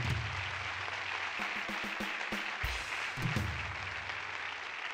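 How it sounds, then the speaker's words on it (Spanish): Applause rises from the audience at a live Spanish talk show as a steady, faint wash of clapping, with a scatter of sharper individual claps and thumps near the middle. "un aplauso para ellos"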